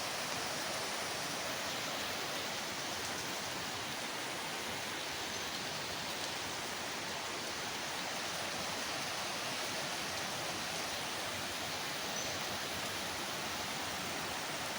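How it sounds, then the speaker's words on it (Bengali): Heavy rain pours at night in Gangtok, a dense, unbroken hiss of falling water that stays even and steady throughout with no voices. "প্রচুর জোরে বৃষ্টি হচ্ছে। ভাগ্যিস আমরা বেরোইনি।"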